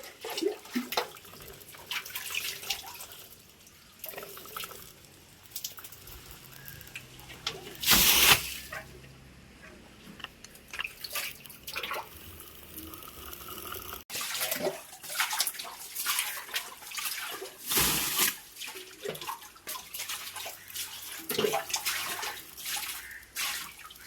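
Spring water gushes and splashes into a pit being bailed out, steady rushing flow broken by bursts of scooping and sloshing, with occasional voices faintly underneath.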